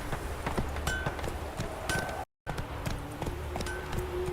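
Roach the horse trots in The Witcher 3, a steady run of clip-clop hoofbeats, close and moderately loud over game ambience, with a brief total dropout midway.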